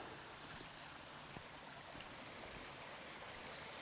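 Water flowing along a creek over sand rock, a faint, steady broadband rush with no talking.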